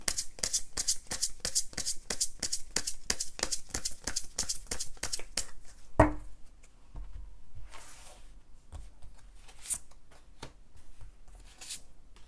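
Tarot cards riffled and shuffled in a quick, steady run of crisp flutters, then a few scattered soft slaps and slides as cards are drawn and laid out, close and fairly quiet.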